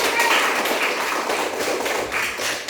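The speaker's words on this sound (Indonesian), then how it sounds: "tepuk tangan." Primary school classroom applause, a sixth-grade class clapping together in quick, uneven claps that stay fairly loud and close for under three seconds.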